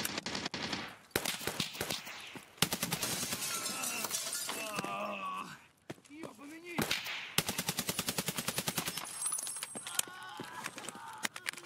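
Rapid bursts of automatic gunfire from Escape from Tarkov, dense and loud, broken by a few short pauses, with glassy shattering mixed in and a brief voice partway through.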